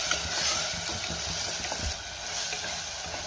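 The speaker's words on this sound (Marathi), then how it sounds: "पावडर मसाल्याची पेस्ट घातल्यावर मी पुन्हा 1 ते 2 मिनिटं चांगलं परतून घेतलेलं आहे" Masala paste sizzling as it is sautéed in a pan for a curry of soaked white peas, a steady close frying hiss with faint stirring scrapes throughout, no talk.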